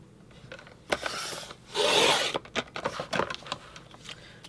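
A paper trimmer blade slides across a 12-inch scrapbook page to cut off half an inch, giving a few short rasping scrapes and one longer sweeping cut, close and fairly quiet, with no talk.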